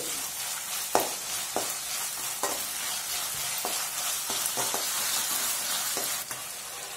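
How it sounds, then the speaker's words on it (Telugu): Onions frying with ginger garlic paste in a pan for a vegetable pulao, a steady close sizzle broken by repeated scraping stirs from a spoon or spatula. "ఇది పచ్చివాసన పోయేంత వరకు 1 నిమిషం పాటు ఫ్రై చేసుకోండి."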